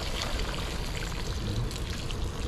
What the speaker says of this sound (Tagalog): lalagyan natin siya ng tubig